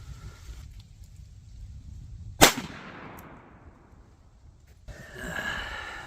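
A single sharp .22 Magnum gunshot cracks outdoors into ballistic gel, followed by a fading echo, with wind noise before and after.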